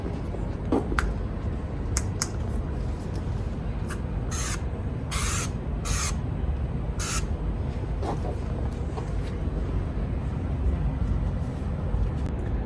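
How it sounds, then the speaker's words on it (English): Xtreme Bio aerosol disinfectant sprayed onto a computer keyboard in several short hissing bursts, fairly close, over a steady background hum with light clicks. "So now I'll spray the keyboard with the Xtreme Bio"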